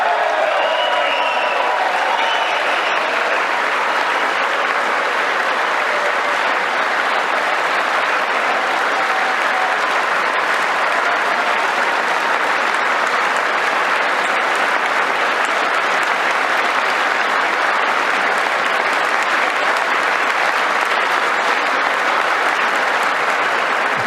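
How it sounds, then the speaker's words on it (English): Sustained, dense applause from a large audience during a State of the Union-style political speech in Congress, steady and loud for the full stretch with no voice heard over it. "Of course, there's a lot of applause."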